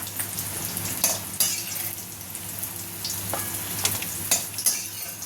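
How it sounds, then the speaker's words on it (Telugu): Bitter gourd pieces fry in hot oil until brown, with a constant close sizzle broken by occasional clinks and scrapes of a utensil against the pan. "ఇవన్నీ మొత్తం బాగా ఫ్రై అయ్యాయి కదా, ఇవి బాగా బ్రౌన్ కలర్ అయితే వచ్చేసింది"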